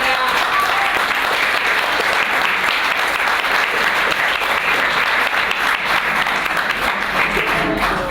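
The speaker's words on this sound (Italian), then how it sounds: "Cioè, questo che non merita l'applauso." A crowd claps continuously for several seconds, a dense, even applause that stays loud throughout without pause.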